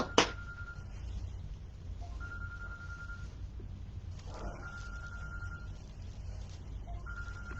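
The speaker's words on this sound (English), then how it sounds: "Sorry, my husband's phone is ringing." A phone rings in the background with a faint electronic tone, repeating in spaced bursts, indoors while Halloween wreath crafting goes on.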